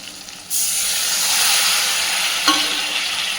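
Spice paste for aloo dum sizzling and frying loudly in a pan after a splash of water is added, with a steady hiss starting abruptly and continuing throughout, with a brief clink of stirring near the end.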